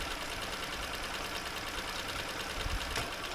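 An outboard boat motor idles steadily in forward gear, a continuous low rumbling drone with a faint knocking texture, close and even throughout with no talk over it.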